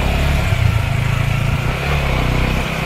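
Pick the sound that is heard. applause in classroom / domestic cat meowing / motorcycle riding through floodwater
motorcycle riding through floodwater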